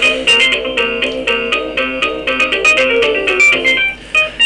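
A loud, close phone ringtone plays a repeating melodic pattern of electronic tones for several seconds with no talking.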